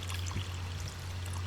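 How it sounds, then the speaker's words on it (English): Frozen vegetable broth is poured into a pot of leftover soup, a faint, steady liquid pour over a low background hum. "taking some freezer vegetable broth, that's what you saw there, and adding it into the leftovers of this soup"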